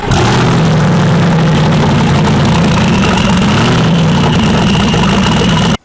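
A twin-turbo Chevrolet C8 Corvette V8, modified with an aftermarket exhaust louder than factory, runs loud and close with a steady, dense engine drone and no talk over it.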